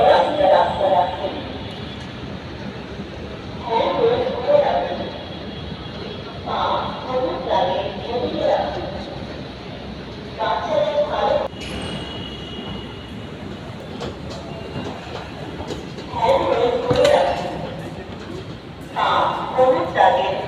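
Ride aboard a Dhaka Metro Rail train toward Mirpur, with steady rolling rumble and periodic swells of wheel and carriage noise, while people talk nearby throughout.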